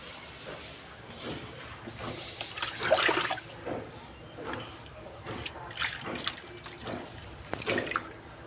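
Running water at a tap while hands are washed off after applying medicine: a steady splashing hiss with irregular surges and drips, close by, under faint background sound.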